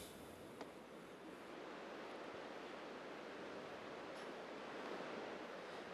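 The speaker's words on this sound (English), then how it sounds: "that river was roaring the entire time we were out here" A river running high and roaring with spring snowmelt in the mountains, a steady broad rushing wash that holds constant and fairly distant throughout.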